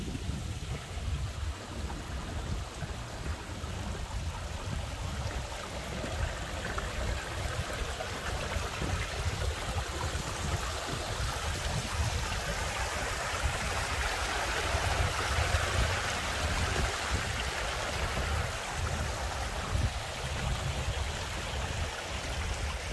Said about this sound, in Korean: 그냥 이런 물소리 들으면서